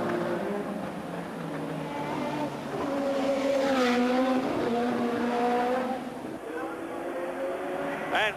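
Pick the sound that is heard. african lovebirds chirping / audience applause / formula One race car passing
formula One race car passing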